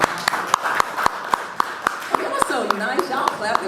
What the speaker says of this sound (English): Nice, y'all clapping